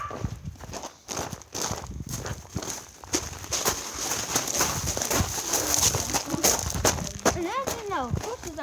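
Horses walking on a farm, with hoof clip-clops and shuffling steps mixed into outdoor noise, while people talk nearby throughout and an animal call rises near the end.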